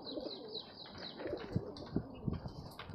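Punjabi and Giribaz pigeons coo repeatedly at close range, a few soft low calls rising over a steady bed of chirps and light bird chatter.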